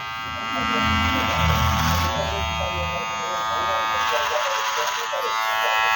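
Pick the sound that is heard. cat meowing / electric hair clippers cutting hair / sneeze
electric hair clippers cutting hair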